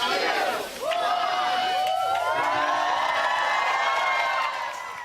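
A crowd cheers and whoops at the outdoor unveiling of a Lucille Ball statue near Jamestown, a loud sustained roar of many voices with higher shouts rising over it, easing slightly near the end.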